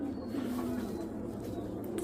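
Fancy pigeons in a Bangladeshi loft cooing, a low continuous burbling coo close by with soft background hum and no speech.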